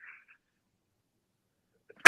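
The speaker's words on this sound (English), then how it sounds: "Bless you." A single short, sharp sneeze bursts out at the very end after near silence.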